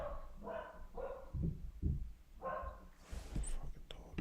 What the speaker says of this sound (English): Please shut that dog up